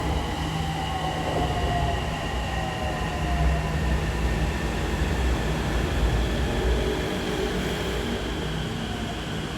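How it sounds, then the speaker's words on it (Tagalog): A Bangkok Purple Line metro train rolls into the station with a steady loud rumble and faint squealing, whining tones overhead, continuous throughout without talk. "Dito na ang ating train."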